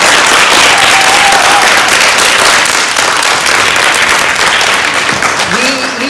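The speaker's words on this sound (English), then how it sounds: "why don't you give me a big round of applause for Mr. Allen?" Steady applause from an audience at a school book event fills the whole clip, dense and loud, with a few faint cheers mixed in.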